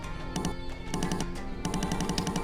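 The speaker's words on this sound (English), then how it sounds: "it's like a dialogue blip" Rapid bursts of short, bright electronic blips, like game text scrolling, in three quick clusters separated by brief pauses.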